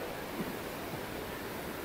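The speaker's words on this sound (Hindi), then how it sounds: "ये पानी की स्पीड, देखें" Fast-flowing mountain river in the Swat valley, a steady, dense rush of water that fills the whole short stretch without pause, loud and close with no voices over it.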